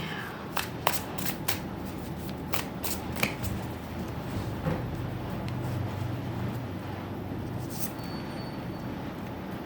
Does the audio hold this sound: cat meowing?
no